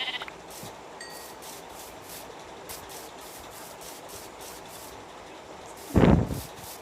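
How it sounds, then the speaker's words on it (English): A single sheep bleat from the video game Minecraft rings out loud and close near the end, after a stretch of steady low game ambience with faint rhythmic clicks. "So now we are gonna kill some more sheeps."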